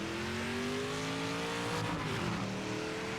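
A race car engine drones steadily while driving laps in the Project Motor Racing game, its pitch held near-constant with a brief shift and slight rise partway through; continuous and close, with no talking.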